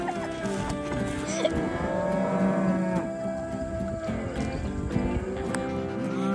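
Cattle moo loudly and repeatedly on a farm during calf weaning, several animals calling over one another with long, drawn-out bellows, close by, amid faint background movement.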